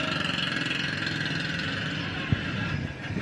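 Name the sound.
milkman's noisy motorcycle engine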